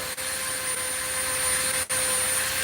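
A Dremel rotary tool spinning a felt wheel gives a steady, high-pitched whine that runs close and continuous, with two brief dips where it lets up.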